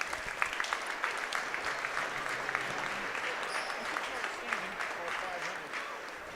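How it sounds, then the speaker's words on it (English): Audience applause for retired school staff at an Eastern Hancock high school basketball game, a steady sustained clapping from a crowd in a gym that continues evenly throughout with a faint voice underneath. "Let's give them a big round of applause."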